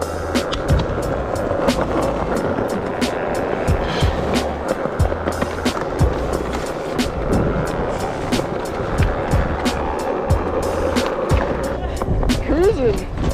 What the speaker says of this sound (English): That's a mom skating